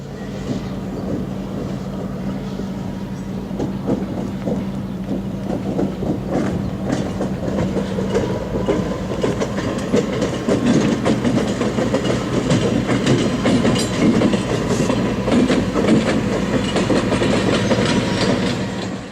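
A Santa Cruz and Monterey Bay Railway train rolls steadily along the rails, loud and close, with rhythmic clattering of wheels and a continuous mechanical rumble.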